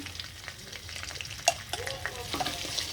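Ghee heating and frying in a pan for a flour-based dessert, a low continuous sizzle with occasional light clinks and scraping stirs, quiet and close with no voices.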